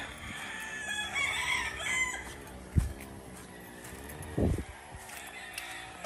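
Chickens cluck and a rooster crows in the background, with a couple of brief thumps and general outdoor farmyard noise.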